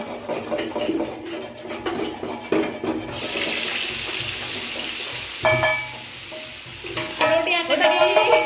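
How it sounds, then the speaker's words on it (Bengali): Food frying in a pan with clattering stirs and a sizzle, then a rushing water-like hiss takes over midway, punctuated by a few sharp metallic clinks, close and fairly loud. "এতে আমি ভেজে নিচ্ছি"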